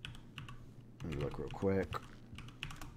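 Someone types a password on a computer keyboard, bursts of quick clicking keystrokes close to the mic, broken up by someone talking over them briefly.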